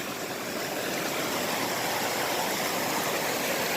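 A creek flows over bedrock crossed by quartz veins, a dense, continuous rush of water at a steady level, close by and alone.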